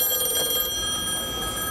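A telephone rings inside the Bureau of Naval Personnel office, where detailers answer calls, a steady electronic trill running continuously at moderate volume without voices.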